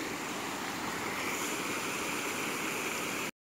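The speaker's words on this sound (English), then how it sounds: "my cousin found this waterfall slash dam that leads down the stream" Small waterfall spilling over a dam into a creek, a steady, dense rush of falling water heard close and continuous, with no voices over it until it cuts off abruptly.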